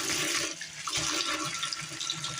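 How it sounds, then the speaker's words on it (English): Water splashes and pours as mung beans are rinsed for Filipino-style monggo, a short close burst of running, sloshing liquid. "Rinse them really good so they get all the dirt out of them"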